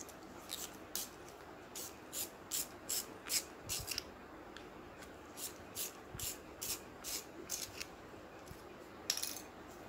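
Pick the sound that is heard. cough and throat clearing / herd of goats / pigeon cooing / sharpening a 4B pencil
sharpening a 4B pencil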